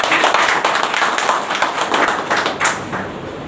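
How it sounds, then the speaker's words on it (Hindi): An audience at a party membership gathering of lawyers claps in welcome, a brisk, close burst of many hands with distinct individual claps, steady for a few seconds before easing off. "आपसे अनुरोध करता हूँ एक बार आपका तालियों स्वागत करें"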